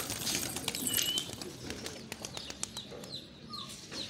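Pigeons coo and call softly amid a busy outdoor background, with brief chirps scattered throughout; the calls are moderately near but not loud.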